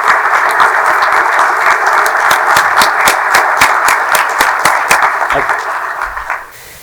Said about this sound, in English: So let's have one final round of applause for all of the award winners.